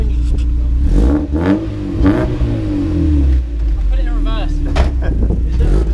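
A Mazda MX5 Miata with 200mm wheel spacers revs hard before a burnout, its engine rising and falling in several loud, close surges. Excited voices shout over the revving.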